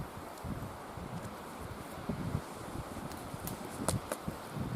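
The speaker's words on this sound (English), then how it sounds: "Now it's a bit windy here at the moment, so I hope everything doesn't blow away." Gusty outdoor wind blows as a steady broadband rush with brief louder buffets, close to the microphone, at a bushcraft site where fatwood is being scraped and lit; no one speaks.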